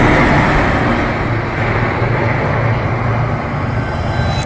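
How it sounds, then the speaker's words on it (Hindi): The ram air turbine deployed from the Air India AI171 airliner during its emergency produces a steady, loud, broadband roaring whir with no clear breaks throughout. "ये एक रैट की आवाज"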